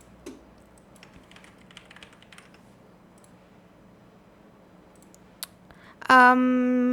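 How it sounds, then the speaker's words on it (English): Quiet, light clicks of typing on a computer keyboard, spread unevenly across several seconds, before a loud sustained tone abruptly takes over near the end. "just going to type in watermark"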